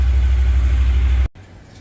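Honda Pioneer 1000 engine idling with a steady low rumble that cuts off abruptly near the end, leaving a quieter background.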